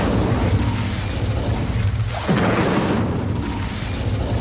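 The Incendio fire spell is cast in Hogwarts Legacy, making loud whooshing, booming bursts of flame. A sharp swell arrives midway, over a continuous roaring low rumble, with no talking.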